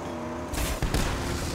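Video game combat with a sudden loud explosion followed by a second blast and rumbling gunfire, short and punchy over a steady background hum.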